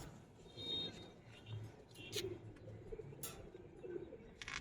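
Giribaz silver pigeons coo softly inside a loft housing about sixty birds, low murmuring calls mixed with a few brief chirps and flutters, fairly faint and close.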